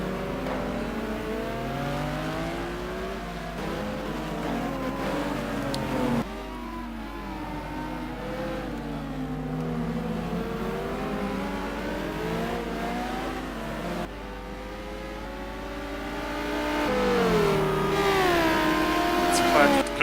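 Race car engines from a sim racing game at Kyalami, with a white Lamborghini among the pack, whining and revving through gear changes, rising and falling pitch, with a commentator talking over them throughout.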